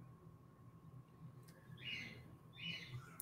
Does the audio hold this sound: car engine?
no